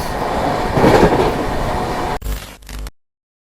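Humsafar Express train running at about 130 km/h while overtaking the Sangam Express at night near Etawah Junction; loud rushing roar and wheel rumble that briefly breaks into choppy clatter before cutting off abruptly.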